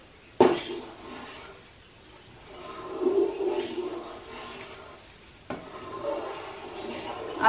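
Thick Mysore pak mixture of ghee, sugar and gram flour being stirred in a pan, with soft scraping and a gentle bubbling sizzle, punctuated by two sharp clanks of the utensil against the vessel.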